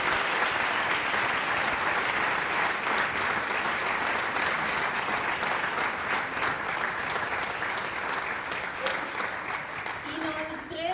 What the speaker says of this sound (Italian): Farei un grande applauso anche a loro.